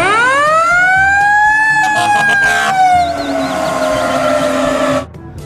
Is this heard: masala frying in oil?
no